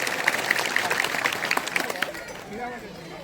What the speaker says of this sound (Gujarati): આપણે એના સન્માનમાં તાળીઓના ગડગડાટથી આ સન્માનને વધાવીએ